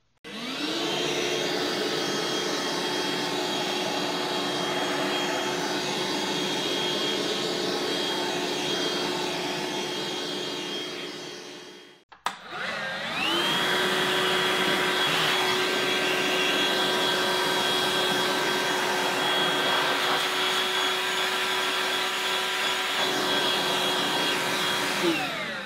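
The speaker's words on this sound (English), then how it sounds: "What about blowing this sand out instead of trying to vacuum it up?" Ryobi 18V battery wet/dry shop vac blowing out sand, a loud steady whooshing whine that cuts off briefly near the middle, then restarts and spins up to a higher pitch.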